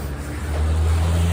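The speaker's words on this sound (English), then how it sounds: "And tractor." A tractor passes close by outdoors near a church, its deep, steady low engine drone holding loud and even throughout, with no talking.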